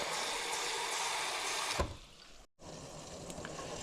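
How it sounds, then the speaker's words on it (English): Water is poured into a pan of browning roux for roast chicken gravy, giving a loud, steady rushing splash that fades off partway through, cuts to a brief silence, then returns as a softer, bubbling wash. "Let's do about a cup of water to start."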